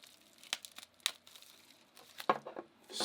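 Tape being sliced and a bubble wrap package torn open, soft crinkles and several sharp tearing snaps spread irregularly, close and fairly quiet, no speech.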